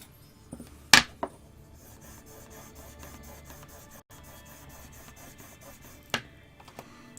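A wood carving chisel is drawn back along a strop to hone its edge while carving an owl: a faint, steady rubbing texture, punctuated by a couple of sharp knocks near the start and one toward the end.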